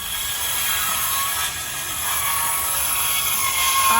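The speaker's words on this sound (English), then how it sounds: "Somebody loaned Bob a power saw." A borrowed power saw cuts during repairs on a camper, a steady, continuous whine with a slight rough grain that holds level for the whole stretch, close and alone with no talk.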